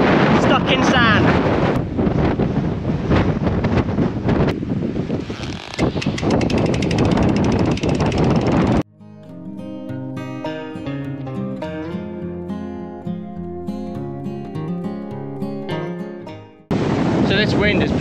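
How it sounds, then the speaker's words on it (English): Strong wind roars and buffets the microphone in a loud, continuous rush on a Scottish gravel cycling route, giving way to a stretch of music before the gusting returns. "So this wind is pretty bonkers,"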